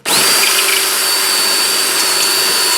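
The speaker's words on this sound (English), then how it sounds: "So let's just drill this one out." A power drill whirs at full speed drilling a hole in PVC, a loud, steady high-pitched whine starting abruptly and holding constant, close by.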